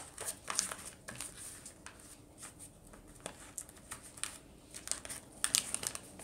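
Paper folded by hand into an origami swan: soft, close crinkling and creasing, with light rustles and taps scattered throughout at low volume.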